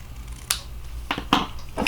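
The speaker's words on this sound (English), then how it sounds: "We got scissors and we know how to use them." Scissors snip through paper for a handmade thank you card, several short crisp cuts spaced unevenly, close and clear over a low steady background hum, with no talk.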